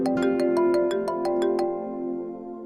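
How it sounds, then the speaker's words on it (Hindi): A phone ringtone plays a bright repeating chime of quick evenly spaced notes over a sustained tone, fairly loud and alone, fading out at the end. "इवेंट मैनेजर का फोन आ रहा है"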